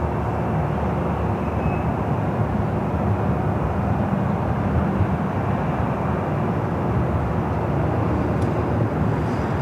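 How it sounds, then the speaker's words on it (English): A Lufthansa Boeing 747 taking off at Los Angeles International Airport, a steady, broad jet engine roar that holds loud and constant throughout, with no talking. "we should be seeing the Lufthansa Queen heading up here for north side at takeoff"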